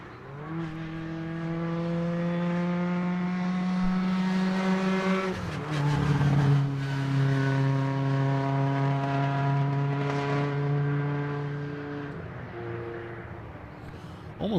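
A race car laps Road Atlanta in a time attack session, its engine screaming loud and close, holding a high pitch, dropping sharply around a shift or braking, then climbing and fading again as it passes.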